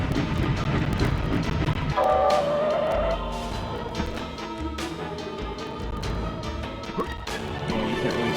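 A train in the video game MediEvil rumbles along with heavy clattering and metallic knocks, its steady roar layered over game music and occasional sharp impacts.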